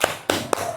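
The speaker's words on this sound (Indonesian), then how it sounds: "Kita kasih tepuk tangan." Three brief, sharp hand claps from a class of pupils, evenly spaced and fairly close, with no talking.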